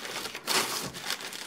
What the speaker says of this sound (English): I'm ripping.